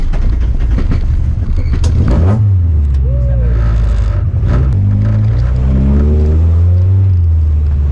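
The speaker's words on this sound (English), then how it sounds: "The one thing I can definitely tell you is this car is very rough." A rough-running dirt race car engine, fitted with a modified Toyota forklift alternator, roars loud and close, its pitch rising and falling through revs with constant heavy rumble throughout.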